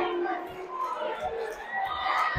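Crowd at a Lapel vs Anderson boys varsity basketball game, a dense wash of chatter, shouts and children's voices filling the gym, steady and fairly loud throughout.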